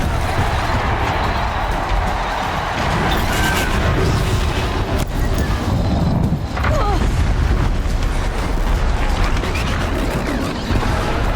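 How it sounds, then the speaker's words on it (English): A platform collapses after a pillar is destroyed in the video game Horizon Zero Dawn, loud rumbling booms and crashing debris rolling on for several seconds, with sharp impacts and grinding mechanical noise. "One more pillar and that platform will come down."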